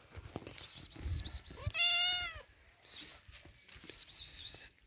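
A female cat meows once in a village home, a clear rising-falling cry close by, with soft whispered talking before and after it.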